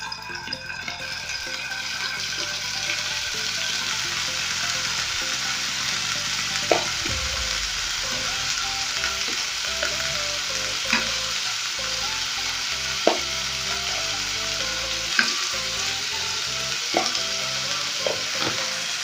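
Chicken tikka pieces fry in hot cooking oil in a pan, a dense, steady sizzle with a few sharp clicks and pops, close and continuous with no talking.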